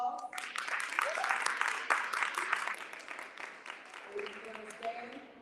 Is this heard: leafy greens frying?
no